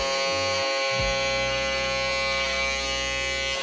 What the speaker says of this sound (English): to bald it out, with your shaver, go against the grain as well